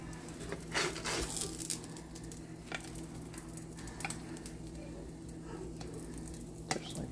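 Egg whites frying in a pan for a simple breakfast, a steady soft sizzle with a low hum underneath and scattered ticks and clinks of utensils.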